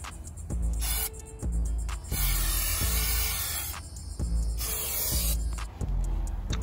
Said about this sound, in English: Bro, spray it real quick.